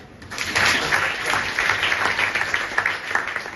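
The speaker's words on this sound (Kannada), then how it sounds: "ಮೊದಲನೇ ಚಪ್ಪಾಳೆ ನಮ್ಮ ರೈತನಿಗೆ" An audience at a college seminar in Karnataka breaks into steady, dense applause that carries on at an even level from start to finish.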